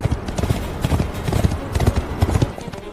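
Horse hooves clip-clopping in a period escort drama, loud and close, with an irregular run of sharp strikes across the whole stretch and no voices over them.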